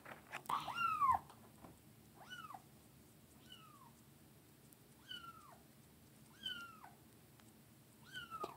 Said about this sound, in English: He's meowing like crazy.